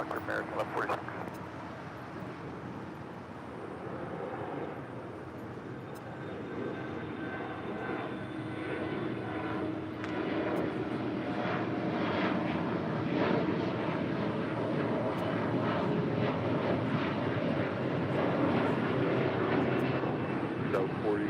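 An American airliner rolls for takeoff on runway 25 right at LAX, a broad, steady jet engine roar that builds gradually, with radio voices talking over it.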